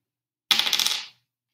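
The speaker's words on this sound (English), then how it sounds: "So you're going to roll the die" A die rolled onto a table, a brief clattering tumble of rapid small knocks lasting about half a second, close and alone.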